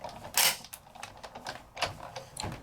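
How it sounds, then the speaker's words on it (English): Die-cutting machine creaking and cracking as colored paper with rub-on transfers is cranked through, a series of sharp close creaks and clicks in an uneven rhythm. "Little creaks and cracks are A-okay."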